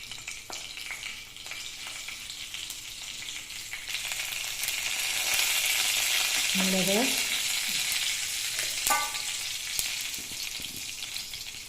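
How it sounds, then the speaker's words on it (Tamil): Steady crackling sizzle of fenugreek and spices frying in hot oil for a rasam tempering, rising in intensity midway, with a couple of brief clinks of a utensil against the pan. "ஒரு ரசத்துக்கு தாளி தாளிக்கிறதுக்கு எண்ணெய் ஊற்றி வச்சு"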